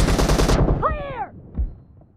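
Rapid automatic gunfire in a team deathmatch shooter video game, a loud burst of closely spaced shots followed by a whistling ricochet-like tone and a single later thump.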